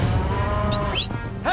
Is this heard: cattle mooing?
yes